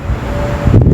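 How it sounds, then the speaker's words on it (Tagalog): Steady wind rushes and buffets against the microphone, with a low rumble that swells briefly near the end. "mahangin-hangin talaga siya guys."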